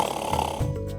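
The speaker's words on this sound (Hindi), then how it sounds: "आपको कभी किसी ने खर्राटे लेते सुना नहीं।" A man snoring in a TV drama scene, one loud, rough, rattling snore up close that drops into a deeper snort partway through, with no talk over it.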